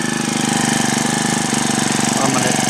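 A small gasoline engine on a motorized side-by-side tandem bicycle runs loud and close, with a steady, rattling, pulsing drone that holds even throughout.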